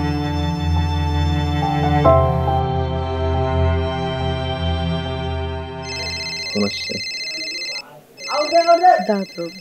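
A telephone rings loudly with a steady electronic tone, and a voice briefly breaks in near the end.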